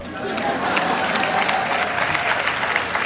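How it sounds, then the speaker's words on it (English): A packed hall full of people breaks into steady, loud applause, dense clapping that holds evenly throughout with no pauses. "there would not be a hall full of people applauding that line"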